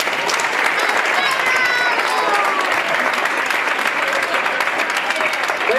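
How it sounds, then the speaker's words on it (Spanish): Sustained audience applause at a magic show celebrating a tenth anniversary, a dense, even wash of clapping that stays loud and steady for the whole stretch, with crowd voices mixed in. "¡Fuerte el aplauso!"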